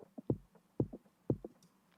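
A very high-pitched kick drum stripped of its percussive click and low bass, playing three evenly spaced thumps with small trailing hits, dry and alone.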